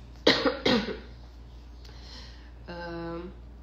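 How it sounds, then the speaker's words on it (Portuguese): A person gives two sharp, dry coughs in quick succession, close and loud, followed by quiet breathing and a brief hum of voice. "eu tô com uma tosse seca"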